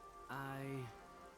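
Steady rain falls in the video game Rain Code, a soft continuous hiss with a brief tonal sound rising over it midway.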